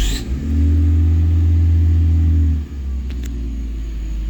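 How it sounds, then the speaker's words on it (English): A car engine fires up after the ignition key is turned and settles into a loud, steady low idle for a couple of seconds, then drops to a quieter running hum. "I have a running car."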